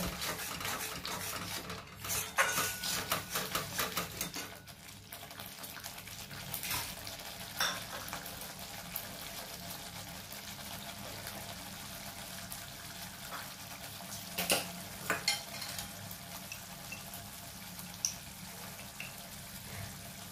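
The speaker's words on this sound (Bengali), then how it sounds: "এবার আমাকে ভালো করে কষতে হবে, ভালো করে কষে নেব।" Fish curry masala for katla macher jhol being stirred and fried in a pan: a low, continuous sizzle with irregular scrapes and clinks of a utensil over about twenty seconds, no voices.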